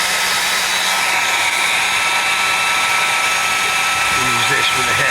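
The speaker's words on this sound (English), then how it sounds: "This is the first time I've had a go with a hairdryer." A hair dryer blows with a loud, constant high whine and airy roar close up, and a voice talks briefly near the end.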